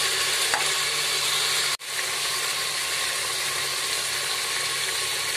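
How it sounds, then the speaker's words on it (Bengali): Mutton pieces frying over a high flame for a mutton curry, giving a steady, loud, broadband sizzle that runs throughout, with one brief break near the two-second mark. "চার পাঁচ মিনিট হাই ফ্লেমে একটু ফ্রাই করে নিয়ে এবার শুকনো মশলাগুলো দিয়ে দেবো।"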